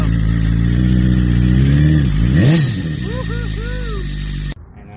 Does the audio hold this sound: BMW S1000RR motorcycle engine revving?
yes